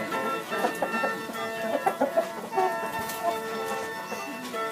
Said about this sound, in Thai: อันนี้ก็คือส่วนหนึ่งที่ไก่ชนที่เลี้ยง ไว้